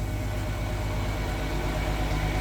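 A used size-200 excavator sits idling, its diesel engine giving a close, even, low rumble with a steady pulsing throb that never changes pace.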